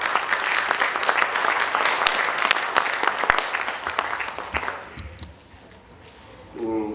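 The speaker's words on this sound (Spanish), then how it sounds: "a quien vamos a recibir con un fuerte aplauso" Loud applause from a large audience, dense clapping for about five seconds before fading out, followed by a voice starting to speak.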